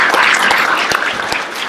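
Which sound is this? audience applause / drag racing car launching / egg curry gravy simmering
audience applause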